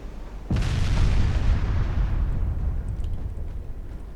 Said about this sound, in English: There we go, big hits on the battleship.